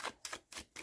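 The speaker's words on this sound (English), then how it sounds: "I'm going to shuffle these down" Tarot cards are shuffled in the hands in a quick run of crisp riffling bursts, four or five close snaps separated by short pauses, with no talking.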